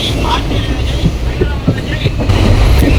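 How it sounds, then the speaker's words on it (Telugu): A train arrives at a station on the Guntur to Hyderabad route, rumbling and rattling close by with a steady low clatter of wheels, mixed with crowd noise on the platform. "మన ట్రైన్ అయితే వచ్చేస్తుంది"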